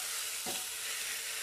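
Pork leg frying with spices in a pan, a steady close hiss of sizzling with a brief stir or scrape partway through, no talking.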